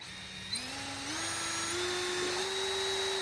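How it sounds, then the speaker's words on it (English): A hand drill whines continuously, its pitch rising gradually as it bores through a wooden board while framing a school bus ceiling, close and steady throughout. "I have to drill through the rest of the board with a hand drill."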